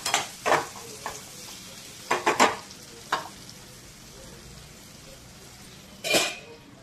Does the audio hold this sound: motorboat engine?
no